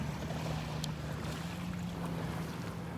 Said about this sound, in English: It's always fun to see all the different boats heading out here.